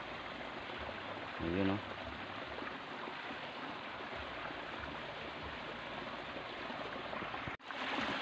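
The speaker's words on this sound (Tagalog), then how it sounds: "Ito yung sapa. Yung maliit na ano." A small stream flows along a muddy country path, a steady soft rush of water running throughout, with a short spoken exclamation partway through.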